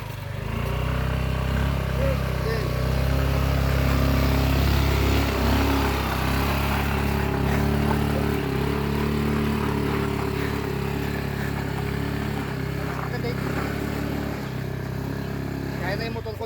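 A motorcycle engine drones steadily at close range on a ride to Malico, with low rumbling and clatter, while people talk over it.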